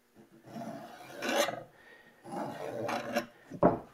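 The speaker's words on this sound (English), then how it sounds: "just to show you how fast the handsaw can be" A hand saw rips quickly through wood in three rasping bursts of rapid back-and-forth strokes, close and clear, separated by short pauses, with no talking.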